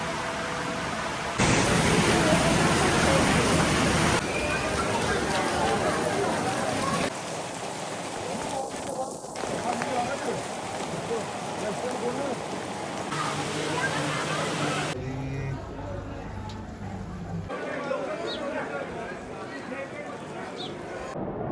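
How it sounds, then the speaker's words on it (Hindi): Heavy rain pours in the mountains near Himkoti, a loud continuous roar that changes in intensity as the scene shifts, with people talking over it. "और बारिश देखो यार"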